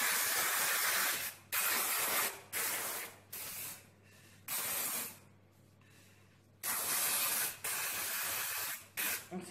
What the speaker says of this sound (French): je vais utiliser mon spray velours de couleur blanc